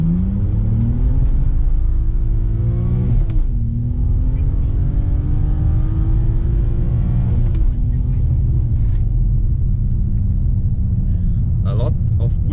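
A BMW 330i E90 launches hard in first gear on a wet road, its engine revving loud and rising steadily through the run, a brief shift-like dip mid-way, with a voice talking over the cabin rumble.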